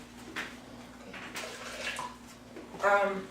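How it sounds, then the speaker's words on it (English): Warm water poured into a container in a home kitchen while preparing a natural pear drink, a soft splashing trickle that ends in a brighter gurgling pour. "I'm going to put a little warm water so that I can warm that thing up."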